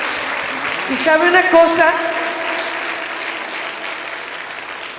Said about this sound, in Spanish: Denle otro fuerte aplauso al Señor